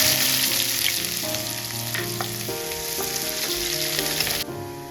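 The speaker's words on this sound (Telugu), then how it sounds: "ఆయిల్ హీట్ ఎక్కిన తర్వాత ఆనియన్స్ వేసుకుందాము" Onions frying in hot oil in a pan for mutton keema with fenugreek leaves, a steady close crackling sizzle throughout with a faint musical tone underneath, no voices.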